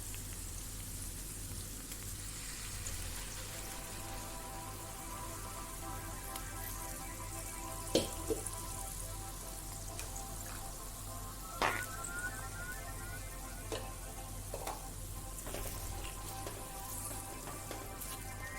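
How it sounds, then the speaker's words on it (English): Spice masala sizzling in hot oil in a pan for Goan brinjal (aubergine) pickle, a steady broadband crackle with a constant low hum beneath and a few sharp clicks and stirring knocks. "Fry it for some time."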